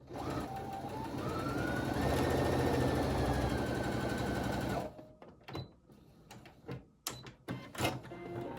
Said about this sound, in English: So let's start sewing.